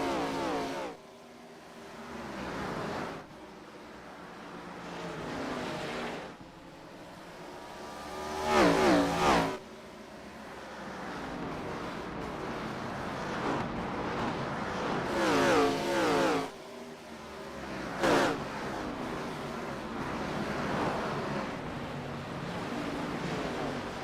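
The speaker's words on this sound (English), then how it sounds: "Listen to these Arca cars muscle their way around Bristol." ARCA series stock cars roar around the Bristol short track, a dense, loud engine drone that swells and fades as packs pass, with occasional sharper surges and no talk over it.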